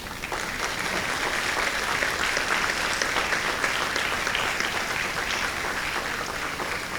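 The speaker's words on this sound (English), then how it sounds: "Bow your head and give them a round of applause, please." Graduation convocation audience at a medical college applauding parents and teachers, a steady, even roar of many hands clapping that holds for the whole stretch.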